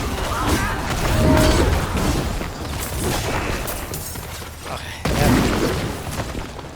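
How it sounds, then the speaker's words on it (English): Dense rolling explosions and impact booms from a Paladin Lance and Wing build in Diablo 4 on Torment 3, continuous and loud, with a person talking over the game audio. "Lots of explosions"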